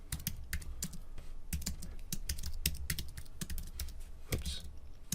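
Rapid typing on a computer keyboard while entering code, with irregular bursts of close, crisp key clicks and a few heavier key strikes, steady and alone without talk.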